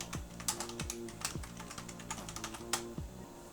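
A password is typed on a computer keyboard in a quick run of close, crisp key clicks, heard alone without speech.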